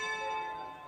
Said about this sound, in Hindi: अभी घंटी बज रही है